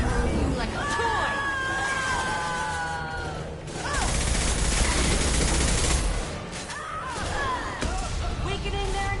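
Heavy gunfire and crashing impacts from Mass Effect 2 combat, a dense sustained barrage with whooshing sweeps and shouted game voices mixed through the din.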